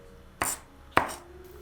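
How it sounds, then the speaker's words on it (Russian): Two sharp knife chops through onion against a cutting board, spaced about half a second apart, close and crisp in a quiet kitchen. "Можно дополнительно порубить ножом, чтобы лук был достаточно мелкий"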